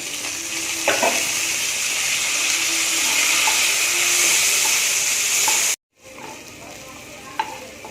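Chopped tomatoes hit hot oil fried with cardamom, whole chillies and five-spice, producing a loud, continuous hiss and sizzle with occasional stirring clicks, cut off briefly before resuming.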